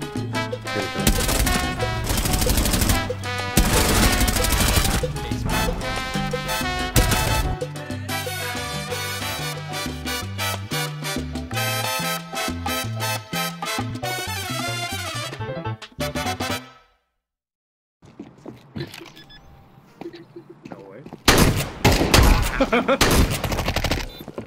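Rapid automatic AK rifle fire in a shooter video game, bursts of loud gunshots stacked over a dense game soundtrack, dropping briefly to near silence before another heavy volley at the end.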